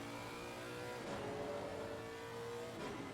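A GT3 race car engine at Suzuka drones steadily at high revs, with brief shifts in pitch as the car works through corners, heard continuously without any talk.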